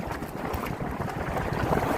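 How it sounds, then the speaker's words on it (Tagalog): Strong wind roars steadily across the microphone at a beach with a low, buffeting rumble, loud and continuous with no voices. "Medyo malakas lang yung hangin"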